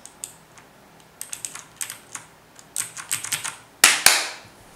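Keystrokes clatter on an Aula Mechanical Demon King budget mechanical keyboard, sparse taps giving way to quick bursts of typing, close and clear with no talking.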